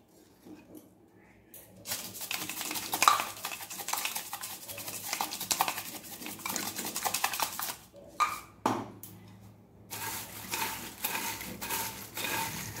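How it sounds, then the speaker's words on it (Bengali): Crushed curry leaves and black salt are tossed through fried nimki snacks by hand, producing irregular crisp rustling and scraping bursts with brief quiet gaps, close and fairly loud, without speech. "এবার আমি এটাতে কারি পাতাগুলো গুঁড়ো করে দিয়ে দেব, আর একটু বিট লবণ মেখে নেব।"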